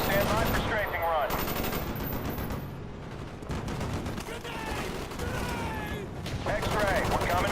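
Rapid automatic gunfire from a strafing run in a Vietnam War video game roars close and loud in sustained bursts, with radio chatter and game voices mixed in underneath.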